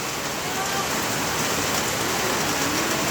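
Rain falls outdoors in Kerala, a dense, steady hiss of drops on surfaces that stays loud and even throughout without pauses.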